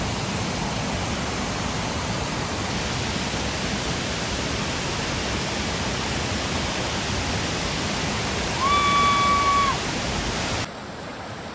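Fast-flowing water at Dudhsagar waterfall in Goa, a steady, dense roar that fills the scene unbroken, with a brief tonal whistle-like sound near the end before it cuts to a quieter tail.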